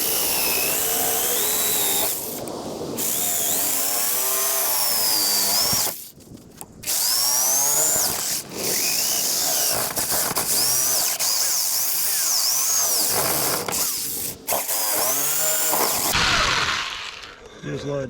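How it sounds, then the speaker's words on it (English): A jigsaw cuts through the shaft of a Motorguide Xi3 bow-mount trolling motor, with a pipe slid inside the shaft. The saw buzzes loudly and steadily, with a few brief pauses. "Now all I'm gonna do is just go around my mark right here with my jigsaw."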